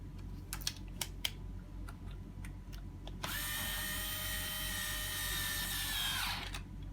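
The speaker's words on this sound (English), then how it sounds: "start screwing it all back together" A power drill drives screws back into the front wheel locking mechanism of an UPPAbaby Cruz stroller, a few sharp clicks and taps leading into a steady, close, high whirring run of about three seconds.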